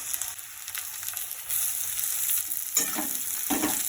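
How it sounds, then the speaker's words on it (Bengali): Potatoes frying in a pan with a bright continuous sizzle, interrupted by a couple of stirring scrapes near the end. "আলুটা প্রথম ভাজা হোক"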